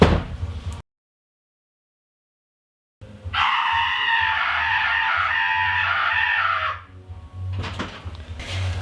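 A person screams behind a closed door inside a converted school bus being soundproofed, giving a muffled, sustained cry of about three and a half seconds. It follows a short silent gap, with low background noise around it.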